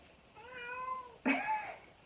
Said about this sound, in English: My son's cat is trying so hard to get in this room right now.